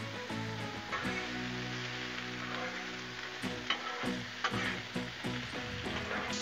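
Peppers and onions frying in oil on a Blackstone griddle, a continuous close sizzle broken by a few soft scrapes and taps of a utensil, with no talking.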